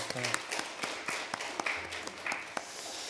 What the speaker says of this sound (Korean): 우리 박수 한번 했으면 좋겠습니다